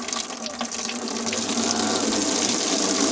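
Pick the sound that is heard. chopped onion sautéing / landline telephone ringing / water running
water running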